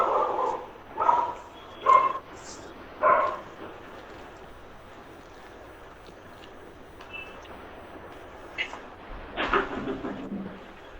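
Dogs bark in a few loud, separate bursts near the start, then quieter yips and a clustered flurry of barks near the end, over low background noise.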